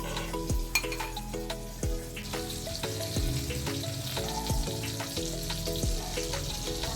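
Onion paste fries in butter in a karai with a continuous, even sizzle and occasional stirring scrapes, while a tune plays in the background.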